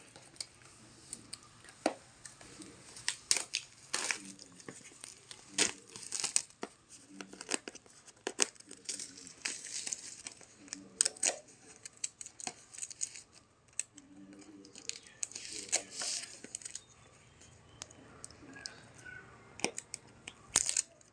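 A product package is unboxed at close range: plastic and paper tear, crinkle and rustle in irregular bursts, with sharp clicks and snips scattered throughout.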